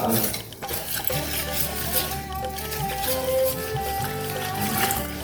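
Ghevar batter being mixed with cold fridge water in a bowl, with soft scraping, sloshing and occasional clinks of a utensil against the bowl, close and steady.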